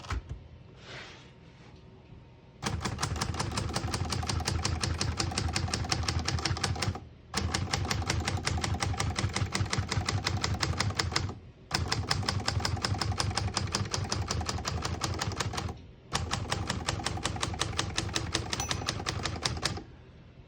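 A 1971 Hermes 3000 vintage portable typewriter clatters through long runs of rapid, evenly spaced key strikes, four loud bursts separated by short pauses, close and alone.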